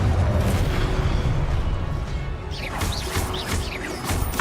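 A rumbling blast from the Confringo spell in Hogwarts Legacy on PS5 booms and crashes loudly, followed by a rolling roar and crackling magical effects.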